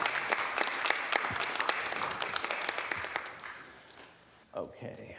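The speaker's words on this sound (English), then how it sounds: "let's give everybody a big round of applause" A room full of people at a city council meeting claps in a burst of applause that swells and then fades out, followed by a short bit of speech.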